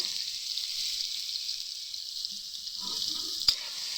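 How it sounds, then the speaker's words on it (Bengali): Carrots and long beans frying in oil for a veg dal recipe produce a constant, soft hissing sizzle, even and close, with a few faint stirring sounds and one sharp tick near the end. "ওই একই তেলেই কিন্তু গাজর আর বরবটিটাকে ভেজে নেব।"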